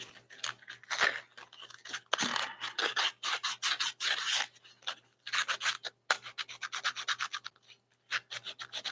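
A piece of roughly 200 grit sandpaper rubs against a part by hand, producing bursts of raspy scratching strokes in irregular rhythm with short pauses between, close and fairly loud.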